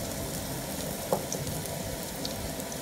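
Chopped onions frying in oil in a village-style Bangladeshi kitchen, cooked alongside small tengra fish, giving a steady soft sizzle with a single brief clink near the middle.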